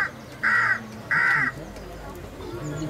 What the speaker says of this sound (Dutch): de tamme kraai zenuwachtig te kraaien